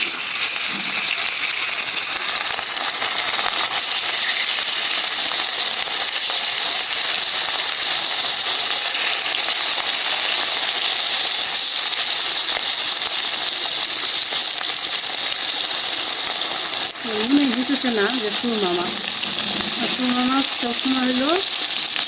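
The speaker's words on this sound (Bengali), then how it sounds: "তেলটা গরম হয়ে গেছে মাছ দিয়ে দিলাম" Fish seasoned with salt, turmeric and chili powder sizzles steadily in hot oil, a loud, continuous crackling hiss, with a voice briefly talking over it near the end.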